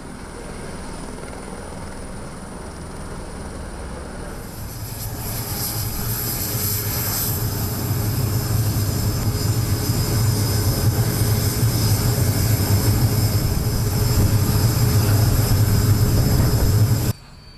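Military jet aircraft passing overhead during an Indonesian ceremony flypast, a roar that swells in after a few seconds and holds loud and steady, rumbling low with a bright whine, then cuts off at the end.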